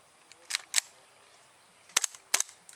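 A KJW KC02 airsoft rifle being fired, several sharp, snappy single shots in two small groups, close and moderately loud against a quiet background.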